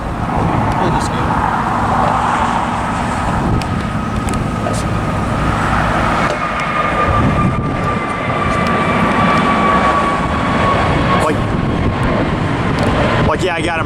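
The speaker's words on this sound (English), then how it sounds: "a More to Love livery taking off here from LAX" An Airbus A321 in More to Love livery takes off from LAX, its jet roar steady and loud throughout with a rising whine, traffic noise mixed in and occasional voices nearby.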